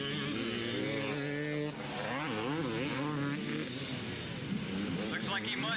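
Yamaha and Kawasaki 250 Pro class motocross bikes racing at a 1992 county fair track, engines revving and whining in rising and falling pitch, with a commentator talking over them.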